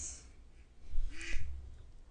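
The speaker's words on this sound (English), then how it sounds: "With a quack." A single short duck quack sound effect, dropped into an edited lip-sync project, sounds clearly and briefly over a quiet background.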